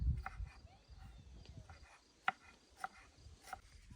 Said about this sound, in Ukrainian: тепер нам зелень потрібно нарізати